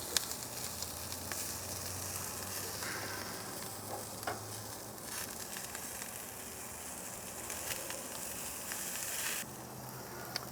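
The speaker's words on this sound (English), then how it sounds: "That's plenty hot for it to finish cooking these asparagus, since cast iron retains heat very," Asparagus sizzling in a hot cast iron pan, a loud continuous hiss and crackle of frying that swells slightly toward the end, with no talking over it.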